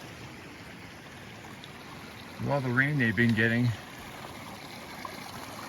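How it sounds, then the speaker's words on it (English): A small mountain stream on the Missouri Mountain 14er hike in Colorado gives a faint, steady rush, and someone talks briefly over it. "I believe we just follow this river, this little stream"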